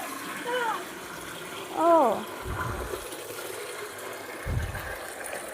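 Water runs from a pipe into a big basin as a steady, even rush, while a voice talks over it now and then.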